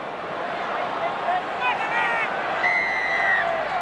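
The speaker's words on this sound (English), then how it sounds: "The crowd aren't happy." Rugby league semi-final crowd in a packed stadium booing and jeering a penalty ruling, a broad, steady roar of discontent with whistles rising over it, continuous through the moment with no clear break.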